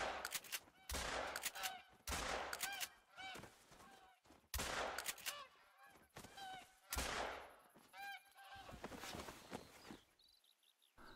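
Geese honk repeatedly in theHunter: Call of the Wild during a goose hunt, loud layered calls broken by sharp gunshot bursts, with honking continuing between shots and no talking.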